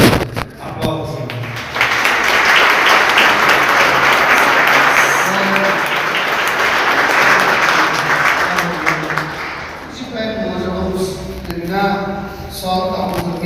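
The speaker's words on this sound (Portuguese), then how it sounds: "Aplausos, Senhor." A church congregation breaks into sustained, full applause that swells and then fades, giving way to a voice speaking over the last scattered claps.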